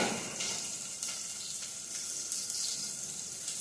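Onion and ginger-garlic paste sizzle steadily in a frying pan, a dense, continuous crackle with small bursts of spatter and light stirring, close and fairly loud, with no voices.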